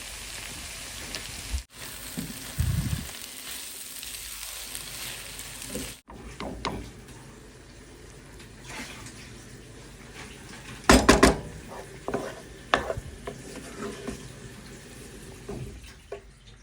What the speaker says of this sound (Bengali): শুটকি মশলাটা কষিয়ে নিচ্ছি